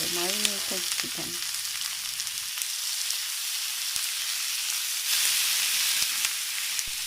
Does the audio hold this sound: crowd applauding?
no